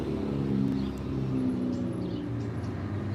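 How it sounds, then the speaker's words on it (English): A car pulls away on a street with a steady, low engine rumble that holds for a few seconds. No voices are heard. "This engine sound right as this car is taking off on the street."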